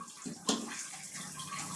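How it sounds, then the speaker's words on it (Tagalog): An open tap left running indoors, a continuous hissing gush of water that stays steady throughout, close and moderately loud, with one brief splashy burst near the start. "pinabayaan mo yung tubig doon oh, na nabukas"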